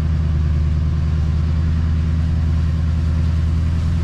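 Vehicle engine on a field drive toward a cornfield and sand ridges, running at a steady mid-level drone with continuous low rumble throughout, close and fairly loud, with no talk.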